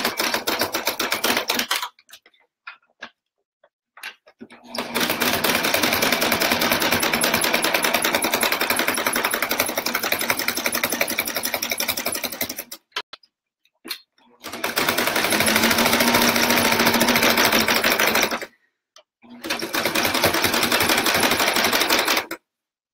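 A sewing machine stitches fabric for oven mitts in long rapid rattling bursts, stopping briefly between runs, loud and close with little else audible.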